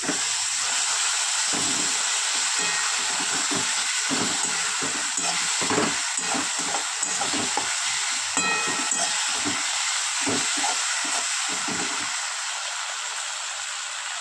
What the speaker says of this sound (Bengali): এবার দিয়ে দেবো আদা রসুন পেস্ট।